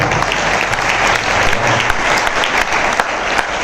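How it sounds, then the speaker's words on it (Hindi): Applause breaks out among the congregation at a Hindi Bible sermon, a loud, dense burst of many hands clapping that keeps up steadily, with no speech over it. "जोरदार ताली हो जाए"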